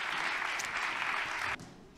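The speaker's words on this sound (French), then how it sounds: "on peut les applaudir d'avoir été ici au ministère de l'économie" Dense audience applause for panelists at a conference in a ministry hall, loud and sustained for about a second and a half before cutting off sharply into a quieter tail.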